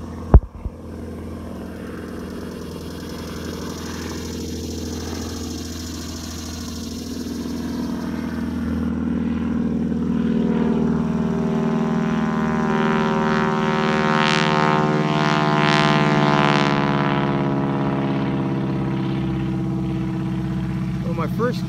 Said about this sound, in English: this is a powerful airplane